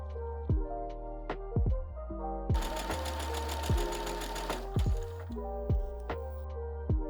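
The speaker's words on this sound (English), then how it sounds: "Pin at the notches and sew." A sewing machine joins skirt pieces in one fast, loud burst of rapid stitching lasting about two seconds, with plucked instrumental music playing underneath throughout.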